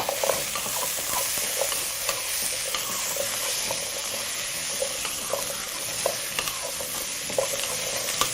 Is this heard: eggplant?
yes